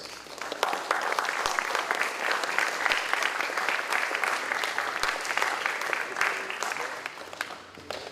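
At a school prizegiving ceremony, the audience gives sustained applause, a fairly soft but continuous patter of many hands with occasional sharper claps standing out.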